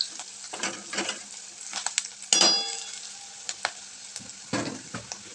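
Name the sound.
asafoetida and turmeric frying in oil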